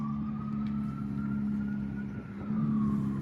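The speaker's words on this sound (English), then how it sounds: "This is a loud car coming up." A loud car coming up a street near train tracks, its engine droning steadily with a rising pitch as it approaches and swells louder near the end, heard alone with no talking.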